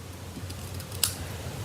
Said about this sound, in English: And grab your ribbon scissors